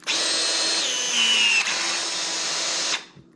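A steady motorized whine runs for about three seconds at close range, then cuts off abruptly, as a power PEX crimping tool crimps a plumbing fitting.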